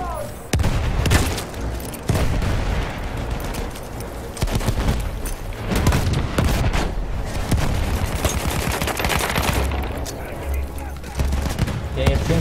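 Bombs explode again and again in the Battlefield 1 campaign mission Fog of War, a loud close barrage of booms and gunfire bursts beneath a player's excited talk.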